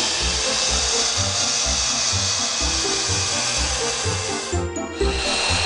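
A Gemini Taurus 3 handheld ring saw cuts through tile or glass with a steady, loud grinding whine and a rhythmic low throb. A brief dip in the sound comes just before the end.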